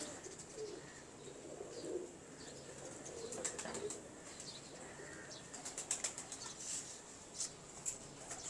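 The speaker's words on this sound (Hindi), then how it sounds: "ये कबूतर" Pigeons of a bred fancy variety with bird sounds and soft wing flaps around a loft, faint coos and flutters scattered over a low background, with a few sharper flapping bursts near the end.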